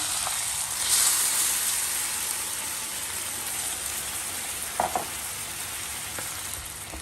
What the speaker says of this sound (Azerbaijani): Şimdi ise suyunu əlavə edirik.